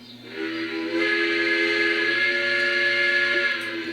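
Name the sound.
Lionel model train whistle triggered from CAB-3 app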